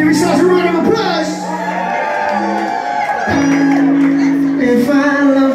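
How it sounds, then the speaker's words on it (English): Concert crowd at a small venue gig in Brighton whooping, shouting and cheering loudly for the band, with voices calling out over a dense roar. "Give yourselves a round of applause!"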